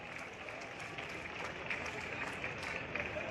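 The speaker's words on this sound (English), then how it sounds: "Let's get one more huge round of applause, please." Crowd applause and cheering at a high school track and field championship, honouring a provincial gold medalist; steady, broad clapping from a large audience filling the whole stretch, with faint voices mixed in.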